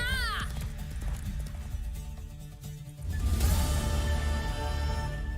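Horse hooves clip-clop in The Witcher 3 video game amid orchestral music and a neigh, steady rhythmic hoofbeats that grow louder partway through, with talk nearby.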